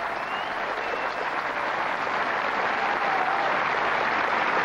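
A crowd of about 5,000 at a 1986 Queen's Club tennis quarter-final, Mayotte against Becker, claps steadily and loudly throughout, a dense continuous wash of applause with no talk over it.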